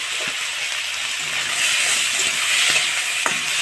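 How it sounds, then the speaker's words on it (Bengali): Prawns with garlic, onion and green chili fry in a pan with a steady close hissing sizzle, broken by occasional scraping stirs and a sharp clink near the end, no voices. "এবার মা দিয়ে দেবে রসুন, পেঁয়াজ, কাঁচা লঙ্কা, সবই মা দিয়ে ভালো করে এটাকে ভেজে নেবে।"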